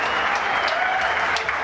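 A crowd bursts into loud, sustained applause and cheering after a long rally at the 2014 World Racquetball Tour Juarez Grand Slam final, a dense wash of clapping that holds steady throughout.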